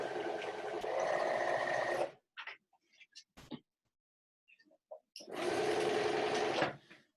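A sewing machine stitches fabric straight down, a steady close whirring run of about two seconds, then a gap with small clicks and handling noises, then a second whirring run of similar length.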